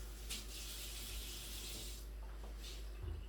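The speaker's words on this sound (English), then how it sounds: "I'll put just a little bit more water because I'm going to need water anyway" A tap runs steadily as water is added to a pot of New Mexico red chile menudo. The pouring is soft and continuous with a brief pause midway, and no one speaks.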